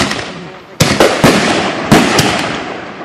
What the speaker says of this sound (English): That's other fireworks.